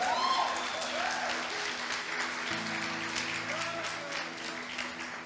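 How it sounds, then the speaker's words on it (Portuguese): Sustained applause from a church congregation during an evening service, steady and dense throughout, with music tones and voices faintly underneath. "Você pode aplaudir a Ele nessa noite?"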